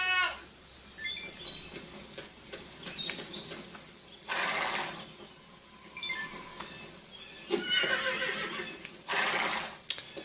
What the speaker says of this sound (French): Hé, regarde, des chevaux.